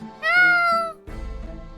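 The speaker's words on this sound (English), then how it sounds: "So that must be one of Wagi's kittens." A kitten in The Great Ace Attorney Chronicles video game gives one clear, close, high meow, followed by a softer, rougher trailing sound.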